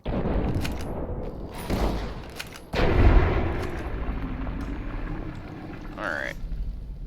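Gunfire in the video game Fallout New Vegas: a few sharp shots and bursts with a heavy, booming blast near the middle, mixed with game noise and a voice talking over it.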